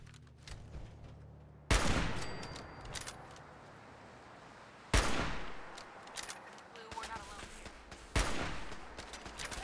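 Automated turret gunfire in Fallout 4, three sharp loud bursts spaced a few seconds apart, each trailing into a rattling decay and echo, with quieter game noise between.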